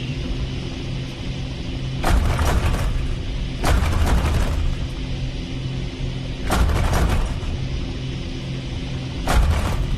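Main gun fire in the Aces of Thunder game played in a motion simulator: four heavy booming blasts at irregular intervals, each a second or so long, over a loud, constant engine and mechanical rumble.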